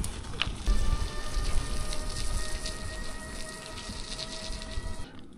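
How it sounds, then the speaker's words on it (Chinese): Light drizzle falls during a rainy stretch in Yadong County, Tibet, with a continuous soft patter and hiss that stays even, then drops off abruptly at the end. "还一直在下雨呢，你看这些水，这会下的小了，毛毛雨，"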